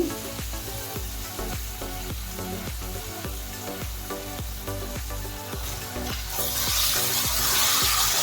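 Chilli sauce is stirred into potato chips sizzling in a pan, producing a steady fry hiss punctuated by rhythmic spatula scrapes and knocks, growing louder and brighter near the end.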